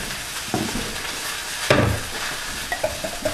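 Sauce being stirred in a pan with chopped fresh tarragon and roasted garlic, a soft sizzle running throughout with a sharper scrape near the middle and a few light clinks of the utensil toward the end, with no talking.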